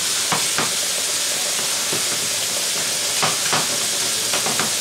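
Shrimp fry in a hot pan, a loud, steady close-up sizzle and hiss with occasional sharper crackles and stirring scrapes.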